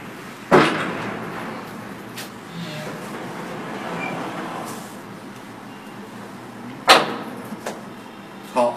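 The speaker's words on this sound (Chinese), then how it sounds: "如果我觉得这边的满的话呢，我可以在这同时呢开这边的门" Door of an RFID smart library bookshelf in a 24-hour self-service library kiosk being opened, with a sharp latch click near the start and another near the end over quiet room ambience.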